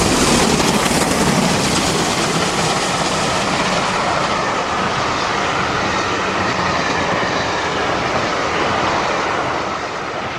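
Loud, continuous rumble of a pair of Great Western steam locomotives working hard close by, with rushing, roaring noise and clattering wheels throughout, easing slightly at the end.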